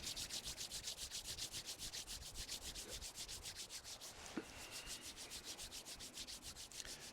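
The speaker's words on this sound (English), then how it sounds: "begin to rub the hands side to side like this" Palms rubbing briskly side to side during a qigong routine, a rhythmic, close swishing friction repeated steadily, with one brief soft knock midway and no talking.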